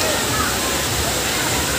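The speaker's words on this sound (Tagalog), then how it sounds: "At dito guys yung nilabasan ng tubig galing sa bundok." Spring water flowing out from the mountain at Badiang Spring, a continuous rushing splash close by, steady and loud, with faint voices beneath it.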